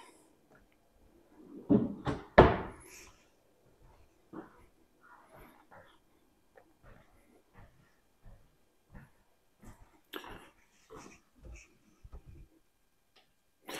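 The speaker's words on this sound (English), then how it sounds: "I know y'all like it when I open the cabinet" Soft-close kitchen cabinet doors and drawers in a Palm Harbor Malibu mobile home, heard as a few louder thuds early on, then sparse, quiet clicks and taps spread out in near silence.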